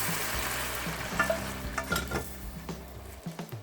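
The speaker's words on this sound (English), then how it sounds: "To the rice, I'm going to add the stock," Golden stock being poured into basmati rice toasting in butter and oil, with a steady sizzle and frying crackle, stirring clicks, and a brief quieter moment near the end.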